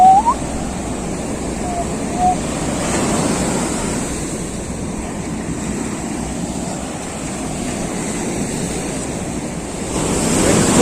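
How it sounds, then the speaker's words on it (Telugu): Heavy ocean waves breaking at Varkala beach, a continuous loud roar of surf with gusts of wind buffeting the microphone, swelling louder near the end. "బీచ్ అయితే అలలు చాలా ఎక్కువ ఉన్నాయి ఈరోజు"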